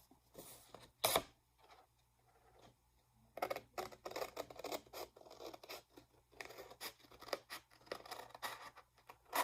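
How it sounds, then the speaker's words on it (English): Crisp snipping and slicing sounds of scissors cutting paper come in short bursts and separate clicks, close by, with quiet pauses between. "grab your pair of scissors and cut this excess part out"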